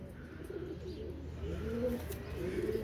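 Sialkoti pigeons cooing softly and repeatedly, low rolling coos close by against a faint steady background.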